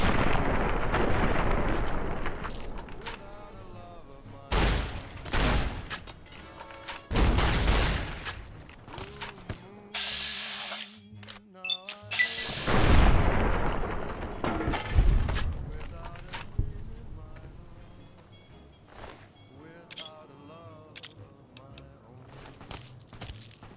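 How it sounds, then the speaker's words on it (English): Bursts of gunfire and booming explosions in the Fallout: New Vegas video game, loud and near, with shots coming in clusters and quieter gaps between them, while someone talks over parts of the action. "Who the hell's shooting at me?"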